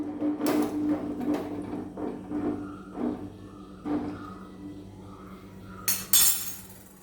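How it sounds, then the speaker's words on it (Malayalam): A spoon stirs gooseberries in a pot off the heat, giving a series of close knocks and clinks against the pot with soft scraping between them, ending in a louder scrape. "നമുക്കൊന്ന് ഇളക്കി കൊടുക്കാം."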